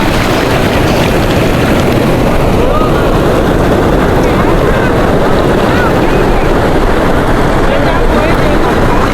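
Sea waves roar onto the beach at Cox's Bazar, a loud, unbroken wash of surf heavily mixed with wind buffeting the microphone, filling the whole stretch with dense rumbling noise.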